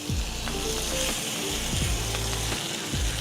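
Cajun turkey sizzles in oil on a griddle, a steady bright crackle with repeated scraping and tapping of a utensil against the metal surface, close and loud.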